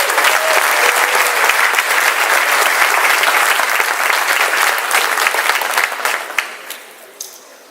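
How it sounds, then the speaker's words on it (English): Gala audience applauding an honoree, dense sustained clapping from a large crowd that holds steady for about six seconds before thinning out and trailing off into scattered claps at the end. "we ask that you please join me in saluting this honoree with a round of applause."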